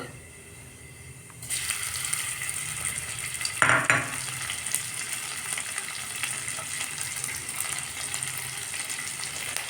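Cumin seeds and grated ginger hit hot oil and start a loud, steady sizzle that stays constant, with a brief clatter of stirring partway through.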